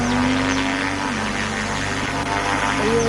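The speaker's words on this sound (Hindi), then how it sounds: "ये एरोप्लेन का आवाज़ भी आ रहा है" A propeller airplane engine drones steadily and loudly throughout, with a slowly shifting tonal hum riding over constant broadband roar, as if heard from inside or right beside the aircraft around takeoff.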